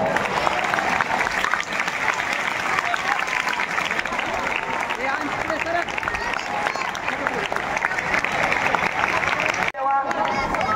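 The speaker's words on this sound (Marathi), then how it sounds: "आणि दुसऱ्या टाळ्या फक्त आणि फक्त तुमच्या स्वतःसाठी वाजवा" A crowd at a public lecture in Latur applauds in a sustained, thick burst of clapping that holds evenly for about ten seconds before dropping away abruptly.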